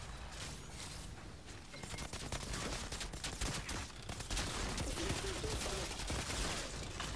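Gunfire from the video game Outriders comes as dense, rapid bursts of shots, with a constant busy layer of game sound underneath that grows louder partway through.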